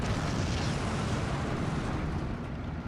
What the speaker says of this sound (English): the second IL-2 is going to be able to come in and finish that off with a strafing run